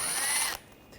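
A ratchet fitted with a T20 socket backs out a screw on a 2013-2022 Buick Encore 1.4L during intercooler removal, giving a brief close burst of clicking that cuts off about halfway through, followed by quiet.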